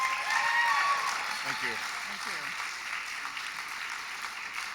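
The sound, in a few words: audience applause in a theatre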